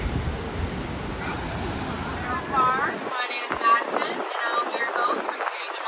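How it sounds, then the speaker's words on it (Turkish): Strong wind roars and buffets the microphone in a cable car over the Niagara River, Canada, with rushing water and surf noise underneath and a brief voice fragment. "Ses geliyor mu bilmiyorum ama. Çok rüzgar var."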